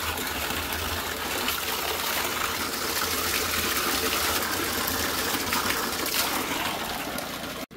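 Cold water gushes hard and continuously from a burst hose, a dense broadband rush that stays loud and steady throughout with no voices over it.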